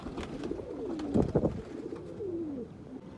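Rampuri and Ferozpuri breed pigeons cooing nearby, soft throaty rolling coos repeating in a short burst with a few louder flutters or pecks in the middle, no talking.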